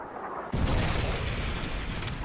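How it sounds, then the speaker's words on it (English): A predator missile strike in Modern Warfare 3 lands as a sudden deep boom after a brief lull, followed by a dense, rumbling roar of debris and noise for the rest of the moment. "Friendly predator missile inbound."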